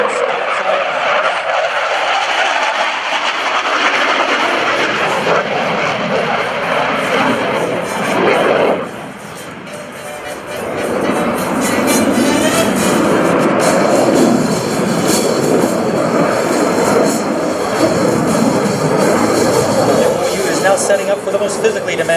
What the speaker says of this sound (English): From the right, Captain Denis Beaulieu will bring the Hornet by for a veteran's topside